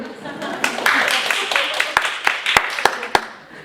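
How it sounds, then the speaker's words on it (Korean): Audience clapping at a Korean children's education seminar, a burst of applause with a few sharp individual claps standing out, mixed with voices talking over it. "우리 박수 한번 올려"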